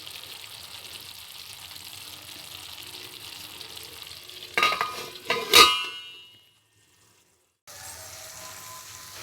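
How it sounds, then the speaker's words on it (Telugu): Chicken pickle cooking in oil in a covered pan for an Andhra-style recipe, a steady low sizzle throughout with a couple of louder clattering bursts, then a brief silence before the sizzle resumes. "ఇప్పుడు మనం ఒక 5 మినిట్స్ మూత పెట్టి ఉడికించుకోండి."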